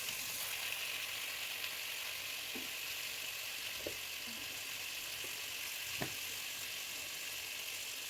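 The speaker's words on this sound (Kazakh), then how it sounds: "етіміз жақсы болып қуырылып жатыр" Fresh unsalted meat frying in a pan on top of onions gives a steady, even sizzle from start to finish, with a few soft utensil taps and scrapes, close and fairly quiet, and no talking.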